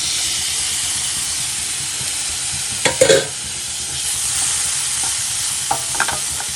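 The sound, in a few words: chopped tomato added and frying with masala in a pan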